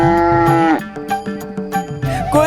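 A cartoon buffalo moos loudly in long, drawn-out bellowing calls, with one sustained moo, a series of shorter lowing notes, then another rising moo close up.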